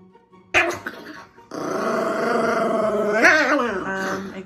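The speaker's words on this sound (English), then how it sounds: "Put the dog down, please." A dog growls low and steadily at close range after a sharp initial bark, rising into a harsher snarl partway through, loud and continuous.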